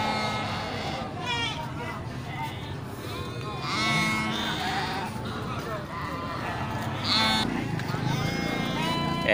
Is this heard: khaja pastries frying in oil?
no